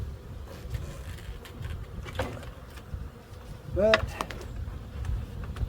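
Honeybees buzz around an opened spring hive that may be queenless and has no brood, a steady close drone running throughout beneath a brief spoken word.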